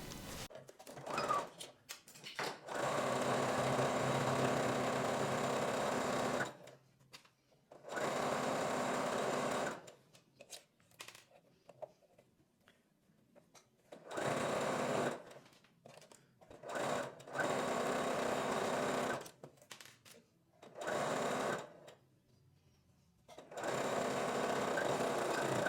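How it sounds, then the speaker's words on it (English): A sewing machine stitches a blouse seam in several close, steady bursts of rapid whirring, separated by short pauses. "And now I'm gonna sew from here to over here, and the same for the other side."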